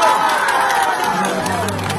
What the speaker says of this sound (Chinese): 谢谢大家的掌声